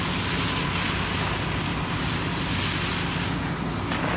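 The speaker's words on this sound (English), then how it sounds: "Right now, Ben's pulling 150 gallons per minute of water out of that nozzle tip" Water blasts from a fire hose nozzle tip flowing about 150 gallons per minute, a loud, steady rushing hiss that stays constant and dense throughout, with no voices.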